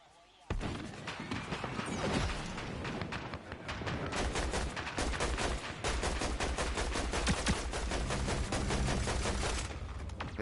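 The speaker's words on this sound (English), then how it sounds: "Who's shooting me?" Rapid, sustained gunfire rattles through a Fortnite match, dense bursts of automatic shots running almost continuously and loudly after a brief quiet opening.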